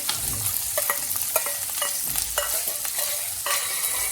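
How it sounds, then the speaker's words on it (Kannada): Onions frying for bhindi masala, a steady crackling sizzle in the pan with scattered sharp pops and clicks as the onions are stirred, close and continuous with no talking. "ಮತ್ತು ಆನಿಯನ್ನು ಏನು ಕಲಸಿಟ್ಕೊಂಡಿದ್ನಲ್ಲ ಅದು ಆನಿಯನ್ನ ಹಾಕ್ತಾಯಿದ್ದೀನಿ"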